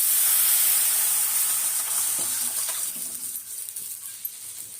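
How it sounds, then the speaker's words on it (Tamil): Rasam liquid poured into a sizzling pepper and cumin tempering, a loud, close hiss that gradually dies down, with a few faint clinks of the pan near the end. "இந்த ரசம் கரைச்சி வச்சதை இதில் ஊற்றிடலாம்."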